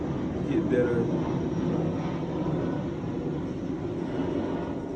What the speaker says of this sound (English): Sorry about that noise, a little plane going over.